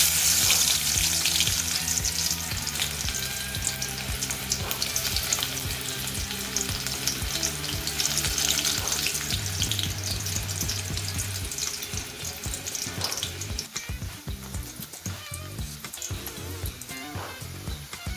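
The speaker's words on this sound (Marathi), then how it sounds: "मी लसूणची टाकणार आहे इथं फोडणी" Garlic fries in hot oil for a Marathi-style tempering, a continuous loud sizzle with bursts of crackle, later joined by stirring scrapes and clatter toward the end.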